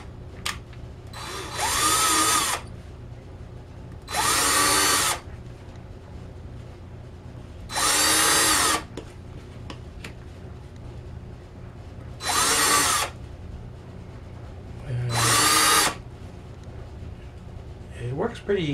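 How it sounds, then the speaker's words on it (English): A power drill whines in five short bursts separated by pauses, each lasting about a second, drilling holes into journal paper up close, with some quiet background murmur. "I'm just going to drill in a little bit in each one."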